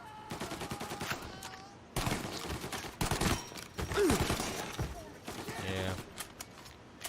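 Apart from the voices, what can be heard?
Tommy gun firing in video game Mafia Definitive Edition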